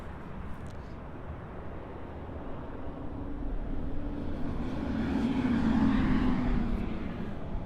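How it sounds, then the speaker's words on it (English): An ANA Boeing 777 airliner landing on the north side at Los Angeles airport: a rumbling jet roar that swells gradually toward a peak with a droning engine tone, fairly distant and without speech. "also have the ANA 777 coming on the north side as well"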